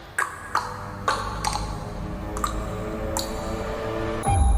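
Gorn creature noises from a Star Trek: Strange New Worlds trailer: a series of about six sharp, ringing metallic pings with resonant tails, spaced irregularly, ending in a low thud.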